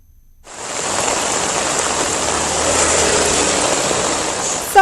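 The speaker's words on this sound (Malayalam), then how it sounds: "സംസ്ഥാനത്ത് കാലവർഷം എത്തും മുമ്പേയുള്ള വേനൽ മഴ കനത്തു പെയ്യുകയാണ്" Heavy pre-monsoon summer rain pours down steadily in Kerala, a dense, constant hiss that swells in after a brief quiet start and stays loud and close throughout, with no voices.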